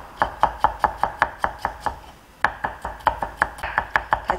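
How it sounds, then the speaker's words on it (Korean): A knife chops garlic, onion and celery on a cutting board in fast, even, sharp knocks, about twenty close and loud strikes with a brief pause midway. "마늘, 양파, 샐러리 다집니다."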